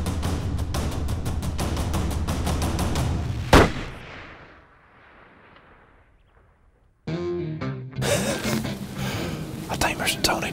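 A single distant rifle shot rings out during a deer hunt in an open field, a sharp crack with a fading tail, followed by excited voices talking afterward.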